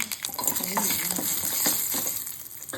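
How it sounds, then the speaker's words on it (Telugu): Urad dal, chana dal, mustard seeds and green chili temper in hot oil with a close, continuous sizzle and crackle, accompanied by a few light stirring scrapes. "నూనె వేడెక్కిన తర్వాత కొంచెం మినపప్పు, కొంచెం శనగపప్పు, కొంచెం ఆవాలు,"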